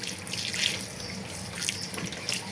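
Tap water runs steadily into a sink while potatoes are washed under it, a close, continuous splashing with brief surges of louder spatter.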